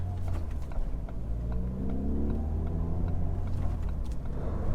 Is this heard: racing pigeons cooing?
no